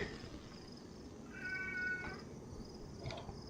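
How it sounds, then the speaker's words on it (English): An indoor house cat gives one drawn-out, fussy meow near the middle, moderately close and fairly quiet, with faint background noise and no talking. "My cat's in here fussing at me."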